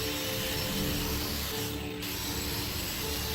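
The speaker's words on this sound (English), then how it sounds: "She applies precise force to a stubborn, rusted bolt." A ratchet wrench works on a stubborn, rusted truck bolt, giving a steady, rapid clicking that runs close and continuous throughout with no voices.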